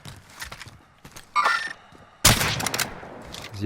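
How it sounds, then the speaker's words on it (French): Close gunfire in the Call of Duty Warzone video game comes as two sharp bursts a second apart, loud against a quieter stretch of light clatter and footsteps. "Ça tire juste à côté de nous."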